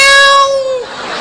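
A person imitates a cat with one loud, drawn-out meow that slides downward and trails off.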